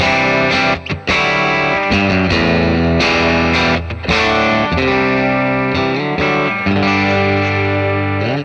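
Distorted electric guitar through a Dr. Z Z-80 amp preset with the Z cab loaded, crunchy chords and single notes with chorus-like shimmer, loud and alone for several seconds.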